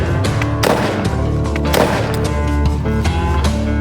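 Rifle firing standard 5.56 55-grain ball ammunition into drywall, a few sharp loud reports spaced about a second apart, close and punchy with ringing tails and music-like tonal bed underneath.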